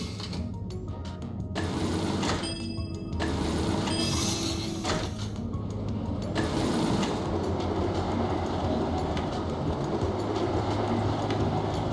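A metro train runs in the video game Cities in Motion: a dense, steady rumble with rattling and clattering that continues throughout and rises slightly, with a few brief tonal squeals near the start.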